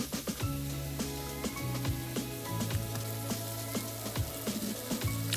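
Seasoned hamburger patties browning in a hot skillet give off a steady, close sizzle and crackle throughout, with a faint low hum underneath and no talking.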